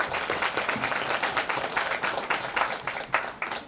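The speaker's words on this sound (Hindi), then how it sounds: "ताली बजाई जाए।" An audience at a Satyug festival devotional gathering breaks into sustained applause, a dense, steady wash of many clapping hands that holds at an even level throughout.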